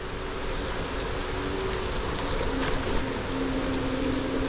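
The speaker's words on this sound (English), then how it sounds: "It's summertime and it's raining." Steady rain falling outdoors in a city street in Auckland, a continuous broadband hiss with a faint low engine hum running beneath it, no talking.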